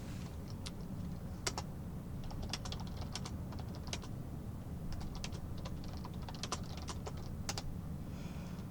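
Keyboard typing on a computer during a StarCraft 2 match, with irregular clusters of crisp key clicks over a steady low background hum, fairly close and with no talking.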